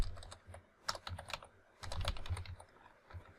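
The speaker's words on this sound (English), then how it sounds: "let's type" Fast typing on a computer keyboard while entering shell commands for a MongoDB database, a close, quiet run of irregular key clicks with short bursts and brief pauses, no voices.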